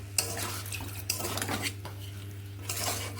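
A mixture with a little added water is stirred in a metal pot, giving continuous scraping and clinking of the ladle against the pot under a low steady hum, close by and without speech.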